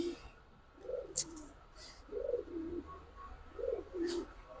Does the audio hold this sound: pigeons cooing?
yes